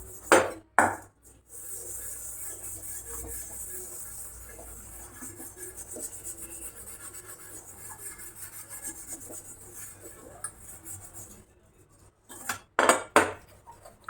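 A new iron kadhai is scrubbed in a long, steady rasping rub lasting several seconds, framed by sharp, louder clanks at the start and end.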